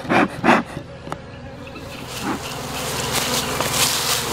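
Honey bees swarm and buzz over an opened hive on a strong, healthy springtime colony, a steady mid-level hum with a few louder close passes early on.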